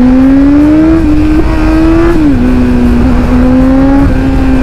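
A superbike engine drones loudly and steadily with a strong tonal hum, its pitch rising and dipping slightly as the throttle shifts, with no voices.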